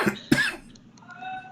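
Two sharp coughs from one person, a quick hack followed by a louder, harsher one, close and alone, then near quiet.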